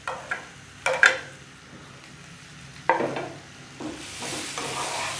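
Chopped onions, two medium ones, tipped into a hot pan for samosa filling, with a soft steady sizzle, a few close clinks and scrapes of stirring, and a louder hiss swelling toward the end.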